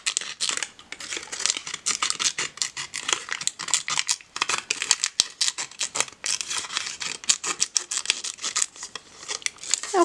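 Scissors snipping through paper lining to form the base of a paper rosette, a rapid, steady series of crisp close cuts with slight crinkling, loud and continuous over about ten seconds, no talking.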